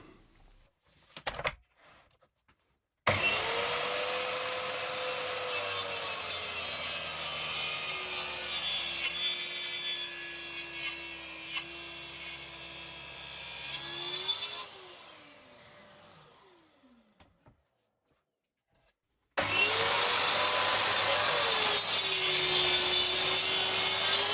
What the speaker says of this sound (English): when you cut bevels with a track saw, you have to work from the outside face of the workpiece